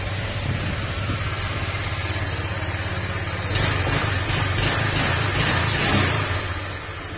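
A Honda Click 125 scooter engine runs at a steady idle with a metallic, grinding rasp inside, and the revs lift slightly midway before settling back down.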